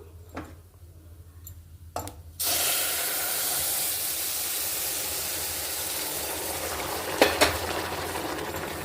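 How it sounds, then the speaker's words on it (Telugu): Boiled milk poured into a hot pan of roasted semiya, a sudden rush of hissing steam and sizzle that settles into a steady bubbling hiss, with a few sharp utensil clinks before and near the end; no speech. "ఇప్పుడు మనం కాచి పక్కన పెట్టుకున్న పాలు పోసేసుకుందాం అండి"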